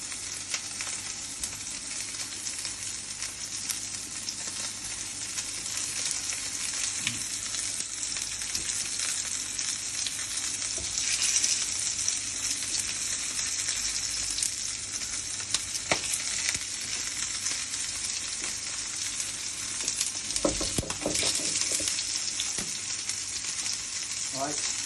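Smashed potatoes frying in butter in a pan, a steady, close, dense sizzle and crackle that holds for the whole stretch, with occasional stirring scrapes and no one talking.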